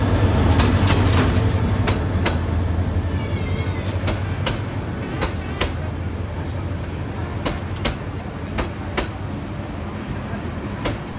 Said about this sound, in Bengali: ট্রেন এসে আজমপুর স্টেশনের প্ল্যাটফর্মে দাঁড়ালো।